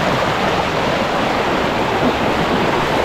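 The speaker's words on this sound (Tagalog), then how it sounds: "Lakas ko ng agos. Grabe ng agos yan." A strong river current rushes in a steady, loud broadband roar, close by and continuous with no talk over it.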